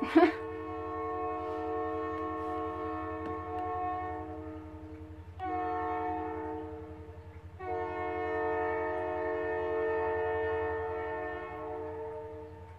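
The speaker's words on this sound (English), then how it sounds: "there's a train." A train horn blares in long sustained blasts over a low steady rumble of a passing train, sounding fairly close and loud.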